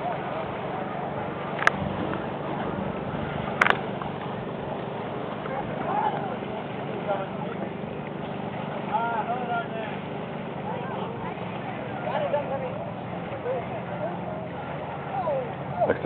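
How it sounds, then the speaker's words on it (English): Motorboats cruise on a mountain lake on a busy summer day, a steady low engine drone and water wash running throughout with faint distant activity, people talking over it. "Looks like a party boat up there coming up this way."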